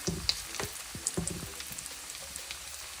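Chicken pieces for sesame chicken fry in hot oil, giving a soft, steady sizzle with scattered crackles and pops, close and fairly quiet, and no one speaking.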